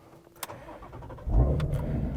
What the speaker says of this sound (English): inside the 350R here, let's go ahead and fire it up